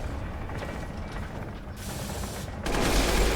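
Rapid machine gun fire in the survival horror game Resident Evil Village, a dense mechanical rattle of quick repeated shots that grows louder and heavier toward the end.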